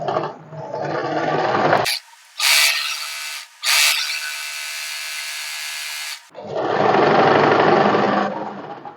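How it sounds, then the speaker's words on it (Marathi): A sewing machine stitches along double-folded cotton strips in several bursts, running loud and close with brief pauses between runs, and the motor tone shifts partway through. "डबल फोल्ड करून झाल्यानंतर एक साईडने मी इथे असं स्टिच करून घेणार आहे."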